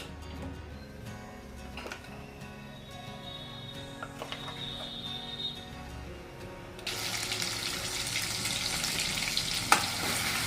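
Spice masala goes into hot oil for a guar bean curry, first a quiet pan with light clinks, then a loud continuous sizzle that rises sharply partway through.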